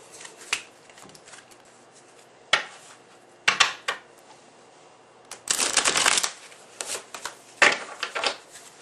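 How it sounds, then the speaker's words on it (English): A Robin Wood tarot deck is shuffled close by in a quiet room, with scattered soft card snaps and riffles and a longer burst of shuffling midway, and no voices. "What I usually do is shuffle the deck,"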